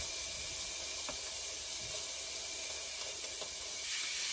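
A Chateaubriand steak sizzles as its ends sear against a hot pan, giving a steady, close hiss of fat and moisture that holds evenly throughout, with no talk.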